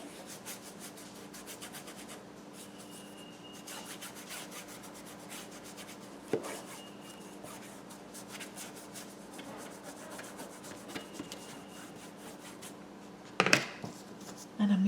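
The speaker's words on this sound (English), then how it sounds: "I'm using my kabuki brush. I'm just going to scrub that around a little bit" A kabuki brush scrubs oil paint around on canvas in quiet, rhythmic rubbing strokes that continue steadily, with a couple of louder knocks and bumps near the end.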